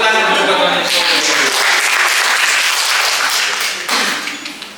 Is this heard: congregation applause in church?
yes